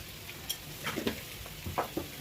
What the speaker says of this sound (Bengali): এখন একটু ভালোভাবে নাড়াচাড়া করে নেব।